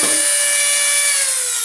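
A rotary tool or drill enlarges holes in a part of a leaking, slow-heating coffee maker for a new heating element, giving a loud, steady high-pitched motor whine that holds throughout.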